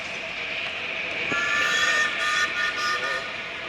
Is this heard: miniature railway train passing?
yes